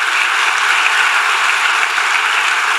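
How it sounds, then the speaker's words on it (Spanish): Church congregation clapping loudly for the Lord during a Spanish-language sermon, a dense, steady wash of applause filling the whole clip without a break. "Iglesia, vamos a darle ese aplauso fuerte al Señor."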